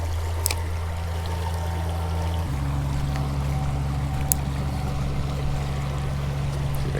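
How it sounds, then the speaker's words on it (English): Steady broadband rush of water pouring over rapids at a small Everglades spillway, constant and close, with an engine-like low hum underneath that shifts pitch partway through. "Oh my gosh, we've got some rapids."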